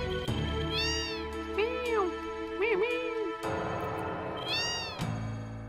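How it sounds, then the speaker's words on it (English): A cat in the Final Fantasy VII video game lets out several drawn-out, rising and falling meows, a few in succession and another after a pause, clear and close over a steady game background. "there's a fucking cat in the way"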